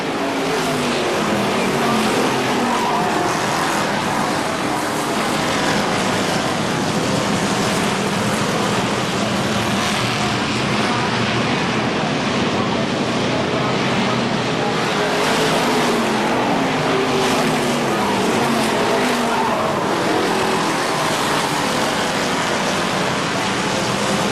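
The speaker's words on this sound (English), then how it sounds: "Justin Miller to the inside of Danny Suffren. Suffren, contact, and both cars go into the wall" Race cars roar around a speedway oval during a race in which two cars make contact and go into the wall; dense, steady engine noise fills the whole stretch without a distinct impact standing out.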